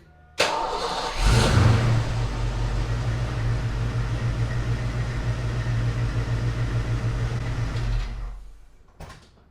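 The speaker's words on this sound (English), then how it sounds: "Now we need to start the engine and let it idle" An 1987-1993 Fox-body Ford Mustang engine cranks and catches, then settles into a steady, low rumbling idle for several seconds before shutting off.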